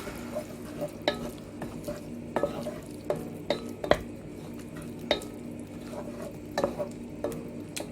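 Spoon stirring stock and vegetables in a pan for a budget vegan meal, with scattered soft scrapes and clinks against the metal at an irregular pace over a faint sizzling bed.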